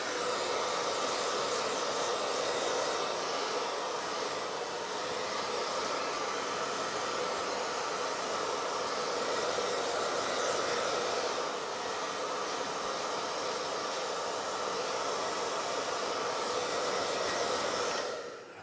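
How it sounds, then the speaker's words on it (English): Handheld hair dryer blowing a man's hair into position, a steady loud airy roar running continuously before cutting off at the very end. "we are blow drying it into position"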